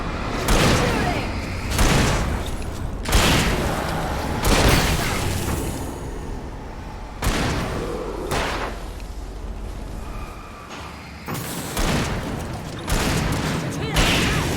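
Heavy gunfire in Alan Wake booms in repeated loud bursts of shots, evenly spaced across the whole stretch, with a voice faintly speaking among them.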